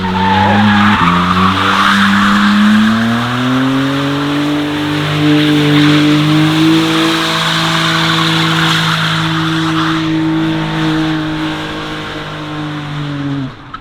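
A Nissan 350Z drift car's engine roars at high revs while tires squeal loudly through a long, sustained slide, the pitch shifting as the drift continues.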